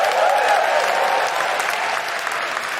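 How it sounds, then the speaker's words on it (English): An audience at a live comedy podcast show breaks into warm, dense applause, loud and sustained from start to finish before easing slightly. "you're only applauding yourselves"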